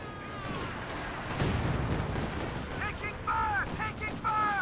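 In a tank strategy video game, a Caddy artillery barrage rumbles and booms under continuous commentary from casters, with whistling shell sounds and repeated explosions building toward the end.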